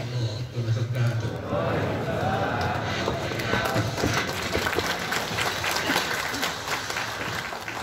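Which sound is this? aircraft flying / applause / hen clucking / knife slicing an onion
applause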